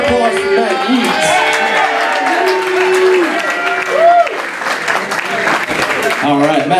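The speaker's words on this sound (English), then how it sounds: "Big round of applause for Matt Eads." Applause breaks out at a wedding reception as the best man is introduced for speeches, clapping and some cheering mixed with loud nearby voices and chatter over the top.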